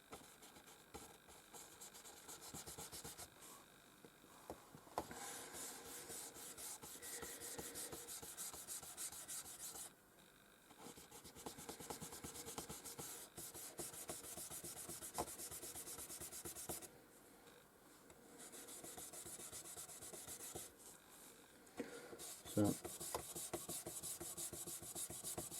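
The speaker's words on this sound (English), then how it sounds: "So what we do with these is we just rub it on the track." Fibreglass track cleaner rubbed back and forth along nickel silver model railway track, a steady close scratchy rasp in long continuous strokes with brief pauses between passes.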